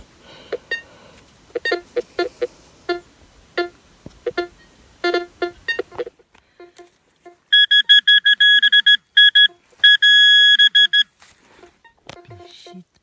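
A metal detector beeps in short bursts while digging on dunes in Ukraine, first irregular pips, then rapid steady tonal beeps in clusters, loud and close with no talking.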